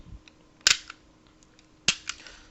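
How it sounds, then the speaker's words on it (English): A Taurus G3C compact pistol has its slide racked back and released to check the chamber, giving two sharp metallic clacks about a second apart, close and clear, with faint small mechanical clicks in between. "I'm going to go ahead and we're going to check for clear"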